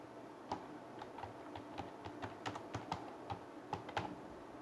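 Keystrokes on a computer keyboard while data is entered into a table in MS Access, a quiet, irregular run of light clicks and taps with short bursts of faster typing, close and alone with no talk.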